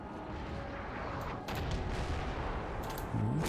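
Massed musket volleys and distant booms rumble through a Napoleon: Total War battle as a steady, dense crackle of gunfire, swelling slightly partway through, with no voices.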